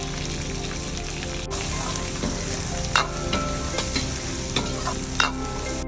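Onions sautéing in hot oil with curry leaves and fennel for a chicken dish, a steady close sizzle with scraping stirs and a few sharp spatula knocks against the pan, no talking.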